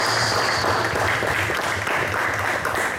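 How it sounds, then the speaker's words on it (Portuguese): Church congregation applauding during a sermon, dense continuous clapping that fills the room steadily at close range, with no voice over it. "aplauda essa palavra."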